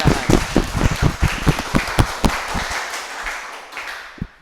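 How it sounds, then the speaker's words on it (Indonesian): A burst of hand clapping from a small group at a school gathering honoring students who won a bridge design competition, brisk and uneven at first, then thinning out and fading over a few seconds. "Tepuk tangan dulu, tepuk tangan."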